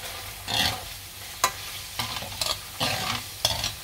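Garlic and veal liver frying in a pan with tomato paste, stirred in several scraping passes over a steady sizzle, close and moderately loud with no talking.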